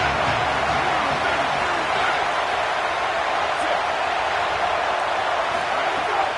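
Steady roar of a stadium crowd on a big third down in the American football video game CFB 27, a continuous broad wash of cheering without breaks.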